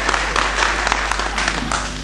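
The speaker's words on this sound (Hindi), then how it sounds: "जोरदार ताली बजा दीजिए" Audience applause at a Hindi comic poetry recital, a dense, loud and continuous clapping crowd filling the whole moment, no one speaking over it.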